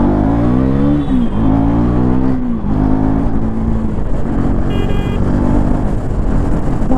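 A 2024 third-generation KTM Duke 390 motorcycle engine revs loud and close, its pitch climbing and dropping through several quick gear changes under steady wind rush.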